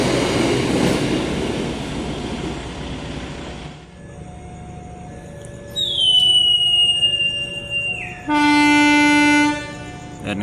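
A Serayu passenger train pulls out of the station, with rumbling rail noise at first, then a loud sustained horn blast followed by a second, longer blast near the end. No one speaks.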